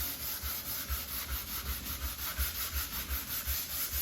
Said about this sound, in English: Give that a good sand off.